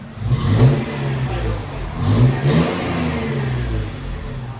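A Toyota FJ Cruiser 4.0L V6 with an MBRP cat-back exhaust revs up twice with a deep, throaty exhaust rumble, then settles into a steady idle drone, close by.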